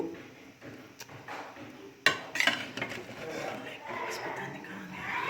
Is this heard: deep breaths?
no